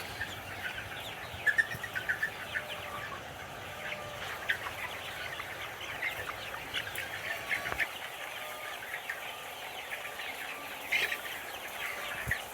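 Thousands of chickens in a poultry farm shed keep up a dense, continuous chorus of overlapping clucks and short calls, fairly soft and spread throughout, with occasional louder bursts nearby.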